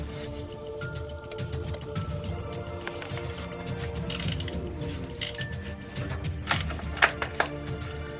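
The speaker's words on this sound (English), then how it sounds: "that's the first bolt and nut I've undone on this bike that's actually quite tight." A tight bolt and nut being undone on a classic Honda CB125 or CB360 motorcycle during restoration, with soft mechanical clicks and rasps building to a few sharper metallic snaps near the end, close by with no talk.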